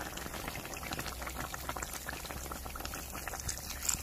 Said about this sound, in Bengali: আর এদিকে আমি দুধটা দিয়ে দিচ্ছি।